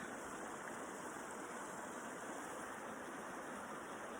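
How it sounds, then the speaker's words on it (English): A river swollen with lots of water rushes in a steady, dense roar, heard close by on a rainy morning walk near a cottage, with no talking over it. "So lots of water in our river."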